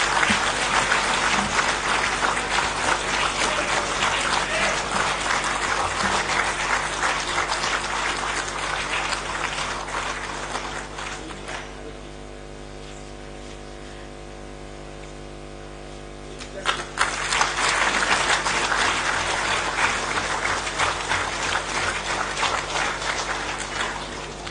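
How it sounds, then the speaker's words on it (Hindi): A large audience at a government ceremony applauds an MoU exchange on stage. The dense, steady clapping fades to a quieter lull midway, then swells back to full strength. "कृपया तालियों की गड़गड़ाहट से इस विशेष अवसर का अभिवादन करें।"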